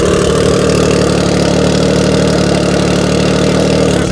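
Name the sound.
snowmobile engine idling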